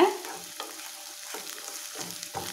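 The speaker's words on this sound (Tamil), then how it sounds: "இப்போ இந்த முட்டை வந்து இந்த எண்ணெயிலே நல்லா வதக்கிக்கலாம்" Egg sizzling and frying in hot oil in a pan for Tamil-style scrambled egg fry, with scattered scraping stir strokes over a steady crackle, close and moderately loud, no talking.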